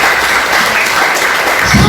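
A church congregation clapping together: a steady wash of applause from many hands, loud and sustained for a couple of seconds, with no talk over it.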